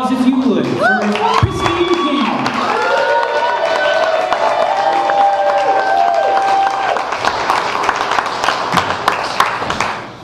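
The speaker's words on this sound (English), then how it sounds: "A big round of applause, if you would." Live concert crowd at a show applauding and cheering with whoops, a dense sustained roar that holds steady for most of the stretch, with a voice speaking over it.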